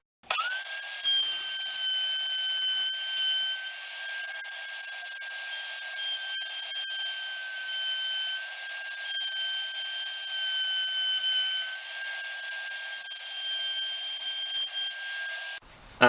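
Router cutting across a plywood edge with a bit that is not quite a round-over, giving a steady, loud high-pitched whine that holds unbroken for about fifteen seconds before stopping, with no talk.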